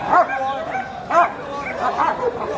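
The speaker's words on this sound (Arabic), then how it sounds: "الكلب زي ما انت شايف بجدع." A large dog with Great Dane and German Shepherd features barks at a Friday street market in Egypt, giving three deep, evenly spaced woofs close by, with faint whimpering and market noise between them.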